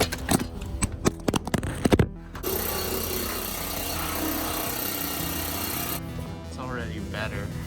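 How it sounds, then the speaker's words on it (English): Planishing hammer working a sheet-metal car door skin during a repair: a few loose knocks, then a continuous rapid metallic hammering for several seconds, loud and close, before it stops and fades into quieter room noise. "I think it's time to try the planishing hammer."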